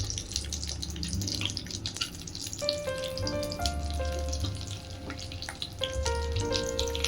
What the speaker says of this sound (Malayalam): നെയ്യ് ഒഴിച്ചു, അണ്ടിപ്പരിപ്പിട്ടു.